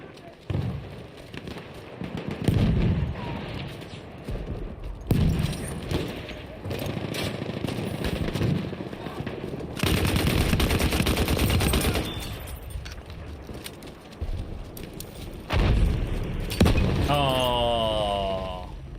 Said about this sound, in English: First fire with the MP18 trench